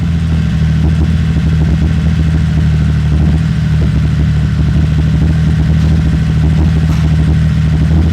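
A freshly restored car engine runs steadily under test, a loud, close mechanical drone with a continuous low hum and faint revving texture throughout, no voices over it.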